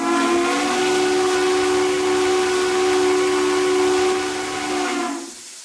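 American steam whistle from the RO-Scale Sandbox video game; one long, loud, sustained chord-like whistle blast with airy hiss, holding steady for about five seconds before cutting off.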